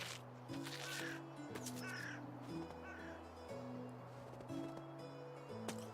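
Crows caw repeatedly in the medieval survival game Medieval Dynasty, a series of harsh calls spread over several seconds above a low droning game ambience, fairly faint, with no talking.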